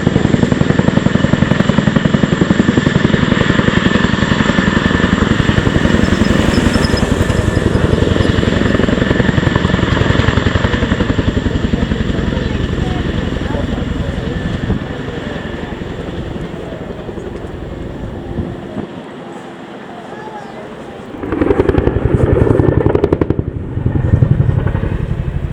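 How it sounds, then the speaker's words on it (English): A Chinook helicopter flying a roll demonstration display at the 2025 RAF Cosford Airshow, a loud, sustained rotor and turbine roar that fades briefly before surging back near the end. "please put your hands together for the 2025 Chinook roll demonstration"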